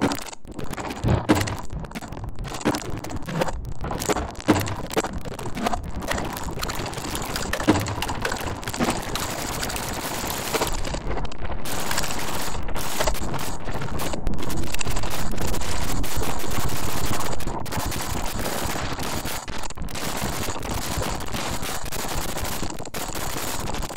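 A sample mangled by the auto glitch of the Sound Destroyer engine, a harsh continuous stream of crackling, stuttering digital bursts and rapid clicks, loud and unbroken for the whole stretch.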